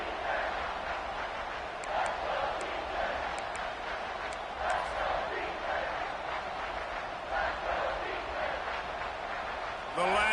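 A stadium crowd at a football game roars steadily through a third-down play, a sustained distant wash of cheering under a clear commentator's voice talking throughout.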